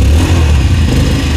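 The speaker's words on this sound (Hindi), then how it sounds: "तो ये पहले इसका एग्जॉस्ट का साउंड सुनो" Exhaust of a 2023 Bajaj Avenger 160 Street motorcycle, a loud, close, throbbing low burble running steadily without a break and with no talk.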